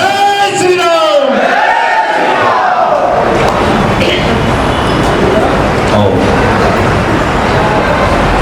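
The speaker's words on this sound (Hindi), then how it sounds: "एक बार जोरदार ताली बजाइए" Large crowd at a religious swearing-in ceremony with a saint present, starting with rising voices and chanting that turns into sustained, loud, dense applause and cheering.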